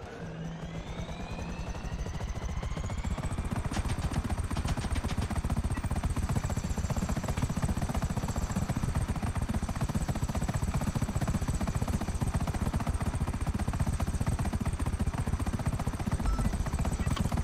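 A Savage military helicopter in the GTA RP video game flies with a continuous rotor chop and a high turbine whine that rises as it spools up, then holds loud and steady close by.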